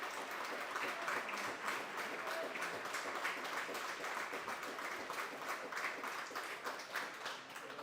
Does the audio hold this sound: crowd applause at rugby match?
yes